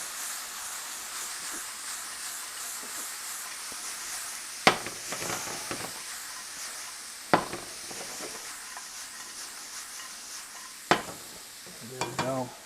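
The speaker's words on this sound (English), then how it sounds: "we're going to use the rest of this sauce to deglaze." Sichuan chicken wings with Sichuan peppercorns and roasted peanuts hiss and sizzle in a hot pan as sauce is poured in to deglaze, with a spatula scraping and clinking against the pan several times.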